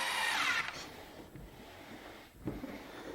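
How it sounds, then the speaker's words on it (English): A power screwdriver tightens screws into a wooden bench tool storage cabinet, a loud close whirring burst at the start followed by quieter rustling and handling noise, no talk. "Now I can tighten them up with my screwdriver."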